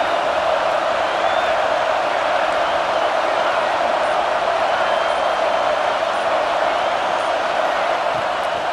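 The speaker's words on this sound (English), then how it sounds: "This crowd, full throat, spreading the eardrums and letting them know it's going to be a long day." Stadium crowd at a Tulane at Utah college football game roaring at full throat, a dense, steady wall of cheering noise holding for several seconds without letup, loud and continuous with no distinct voices.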